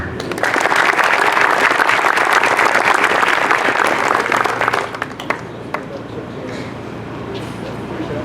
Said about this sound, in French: je vous propose d'applaudir encore plus fort M. Ménès